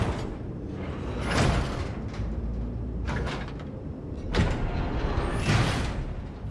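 A door mechanism in Cyberpunk 2077 slides open with several creaking, grinding mechanical bursts spaced a few seconds apart, fairly close and loud over a steady low ambient rumble.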